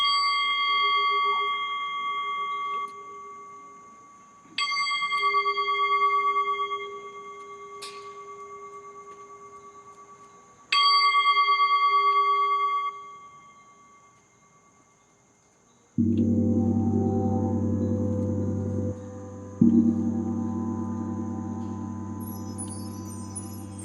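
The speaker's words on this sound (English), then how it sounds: "we let the journey begin with the sounding of the bowl and the sounding of the gong" A singing bowl is struck three times, each strike ringing out clear and long with a slowly fading shimmer, before a deep gong sounds twice, its low, rich tones filling the quiet garden.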